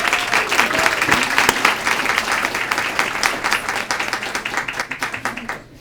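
Audience applause fills a public health storytelling night in Atlanta, dense and steady at first, then thinning toward the end into scattered individual claps.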